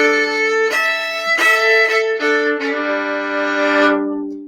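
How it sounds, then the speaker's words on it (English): Fiddle played with a horsehair bow, a few sustained bowed notes and short strokes at close range, bright and resonant, ringing alone without voices. "when you pull that horsehair across the strings, it vibrates the strings and sounds like this"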